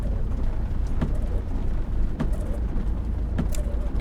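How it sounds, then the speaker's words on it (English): Car in Omen Exitio: Hunger accelerates away with a steady, loud, low engine roar, broadband and continuous, with a few faint knocks and no talking. "Your foot slams down on the accelerator."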